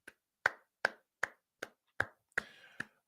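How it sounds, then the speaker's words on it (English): Seven distinct hand claps ring out one at a time with even pauses, close and crisp, without any talking, during a sports talk segment about a Ravens win over the Browns. "we're just gonna sit back and clap for a second"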